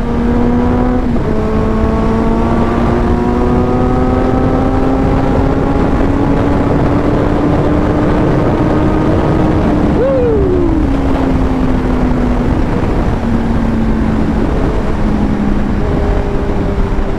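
A Kawasaki Z900 SE motorcycle engine on a test ride holds a steady loud drone that rises slowly in pitch, dips briefly with a quick rev blip, then settles again, with constant wind rush throughout and no talking.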